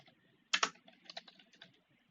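C# code being typed on a computer keyboard, a short burst of close, quiet key clicks with two sharper strokes at the start, then lighter irregular taps.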